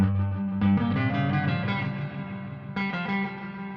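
Guitar chords played through a budget Eno reverb pedal switched to spring mode, two close, loud strums with a bright, slightly echoing tail between them, no talking.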